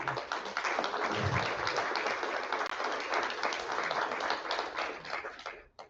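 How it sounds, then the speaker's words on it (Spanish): A seated audience at a talk applauds for the poet Andrés Eloy Blanco, a dense, muffled wash of clapping that holds steady for several seconds before fading out. "Merece un aplauso a Andrés Eloy Blanco"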